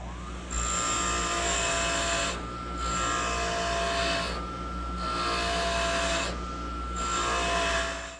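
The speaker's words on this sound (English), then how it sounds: "The wire wheel on the grinder will, and we'll just buff them right off." A wire wheel on a bench grinder buffs rust off metal screws, a loud whirring drone broken into four grinding passes with short pauses between them.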